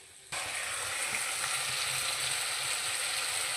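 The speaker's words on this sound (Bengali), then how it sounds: "কেটে রাখা টমেটোগুলো এখন একটা একটা করে দিয়ে দেবো। এবার এটাকে কিছুক্ষণ ধরে কষিয়ে নেওয়ার পর জল দেব।" Chopped tomatoes sautéed in a hot oiled pan, a steady loud sizzle that starts abruptly and continues evenly, with faint stirring scrapes underneath.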